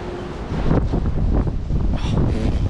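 Wind buffets a microphone outdoors in a garden, giving a loud, continuous rumbling roar with gusty swells and a brief higher hiss toward the end. No voices are heard.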